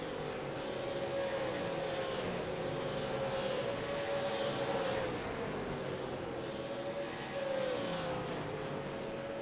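Super late model race cars lapping at Nashville Fairgrounds, a loud sustained engine whine rising and falling as cars pass, with a steady roar underneath and no talk.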